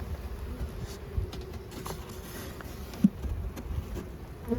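Honeybees hum around an opened hive during an inspection, a steady low buzzing cloud close by with a few louder bees passing near, no talking.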